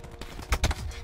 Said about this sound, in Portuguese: 3 mil pessoas me atirando